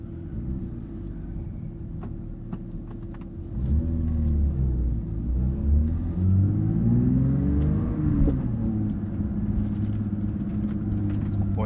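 A 2023 Porsche 911 GT3 with a manual gearbox drives with a deep, rumbling engine note from inside the car, revs rising and falling through the gears with a steady low drone.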